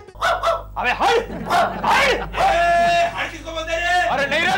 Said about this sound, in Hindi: अब गले के सारे कुत्ते भौंकने लगे हैं।